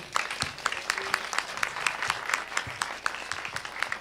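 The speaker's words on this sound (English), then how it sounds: "Can we all give a round of applause for Danilo?" An audience at a public lecture applauds steadily, a dense patter of many hands clapping at moderate volume for several seconds.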